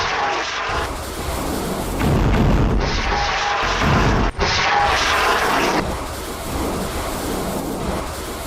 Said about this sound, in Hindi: हिजबुल्लाह ने अदामिज सेटलमेंट पर करीब 11:30 पर रॉकेटों का एक पूरा साल्वो फायर कर दिया